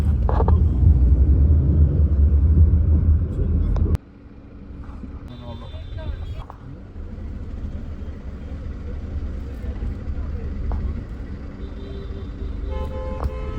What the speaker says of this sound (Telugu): ట్రాఫిక్ జామ్ అయినట్టుంది.